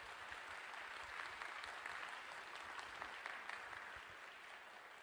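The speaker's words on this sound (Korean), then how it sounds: "여러분 뜨거운 박수로 환영해 주시기 바랍니다." Warm applause from a seated audience at a Korean navy concert welcoming the Chief of Naval Operations, even and sustained but heard from some distance and fairly faint.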